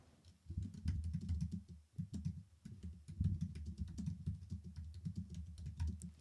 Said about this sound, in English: And then typing on the computer.